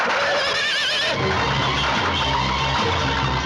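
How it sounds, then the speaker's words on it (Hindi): A startled horse gives a loud, shrill neigh that wavers and trails off, close by, followed by a rumbling snort and shuffling over steady outdoor noise. "मेरा घोड़ा भिनक जाएगा।"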